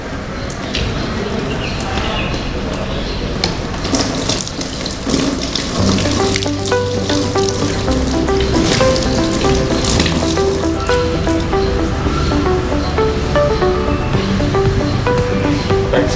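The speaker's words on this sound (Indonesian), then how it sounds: "Tahap selanjutnya adalah kita mencuci tangan menggunakan air mengalir" Hands wash under a running tap, giving a loud, steady gush of water with splashing close by. Faint tonal background sound runs underneath.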